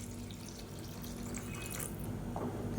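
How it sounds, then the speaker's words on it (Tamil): Water being poured into a pan of sautéed coconut and tomato chutney paste, a continuous soft splashing and trickling pour heard close by with no voices. "இப்போ இதில் தேவையான அளவுக்கு தண்ணி சேர்த்துக்கலாம்"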